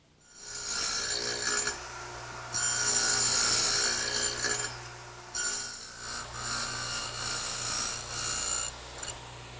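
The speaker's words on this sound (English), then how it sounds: "I've set the radial arm up with a dado cutting blade." A radial arm saw fitted with a dado cutting blade plows through wood in several long passes, a loud high whine and rasp broken by brief drops as the blade clears the cut.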